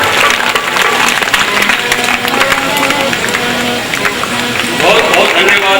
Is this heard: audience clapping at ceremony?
yes